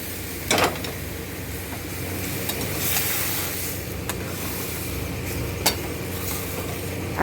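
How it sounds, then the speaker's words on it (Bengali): Boiled peas tipped into a pan of frying spice masala for ghugni, a continuous close sizzle with a couple of brief clacks of utensil against the pan and no voices. "আর এই যে সেদ্ধ করা মটরটা এখন এর মধ্যে চলে যাচ্ছে।"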